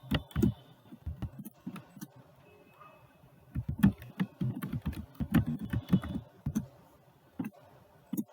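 Keys on a computer keyboard are pressed in quick irregular bursts while typing in MS Word, close and fairly quiet, with short pauses between runs of clicks.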